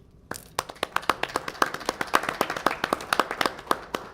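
An audience at a North Charleston city council meeting claps for a volunteer, a modest, steady patter of hand claps from a small group, fairly close and without voices.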